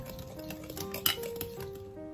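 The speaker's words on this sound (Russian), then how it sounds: "Хорошо перемешиваю. Перемешивать можно вилкой или венчиком." Soft clinks and scraping of a fork against a bowl while mixing eggs for a cake batter, quiet and close, with a few sharper taps.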